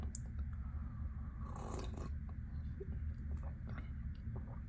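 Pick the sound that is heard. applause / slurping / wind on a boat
slurping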